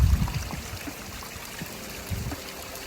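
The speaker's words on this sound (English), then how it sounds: "a stream coming out of a burnt charcoal tree" Water trickles steadily from a burnt, charcoal-blackened tree trunk along a hiking trail, a soft continuous close-up babble with a few louder low gurgles near the start and again toward the end.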